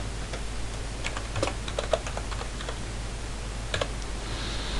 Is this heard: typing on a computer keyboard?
yes